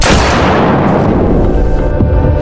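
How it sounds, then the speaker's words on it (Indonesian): Loud gunshot sound effect in a fifth-grade school drama about Dutch soldiers shooting, a booming blast that fills the whole moment and fades slowly, with no speech. "Tentara Belanda langsung menembaknya."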